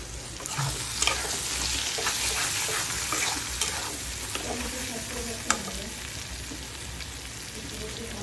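Onion and tomato frying in a pan with oil, a continuous close sizzle with stirring scrapes and a couple of sharper knocks of the spoon.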